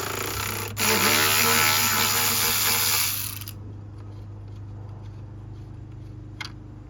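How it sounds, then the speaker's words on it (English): A power tool whirs close by while it removes bolts from the oil filter housing cooler on a 2011-2021 Jeep Grand Cherokee, a loud buzzing burst of about three seconds that cuts off into quieter handling noise. "So now we can start popping off our bolts"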